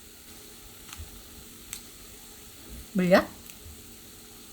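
Spicy sauce of soy sauce, chili flakes and corn syrup hits the hot pan with a short, loud sizzle near the end, after a quiet stretch with faint kitchen ticks; a voice speaks briefly.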